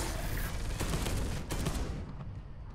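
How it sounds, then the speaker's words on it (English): Rapid gunfire bursts from Space Hulk: Deathwing, a dense, loud fusillade of automatic weapon shots rattling continuously, then easing off slightly toward the end. "Shooting him in the shoulder."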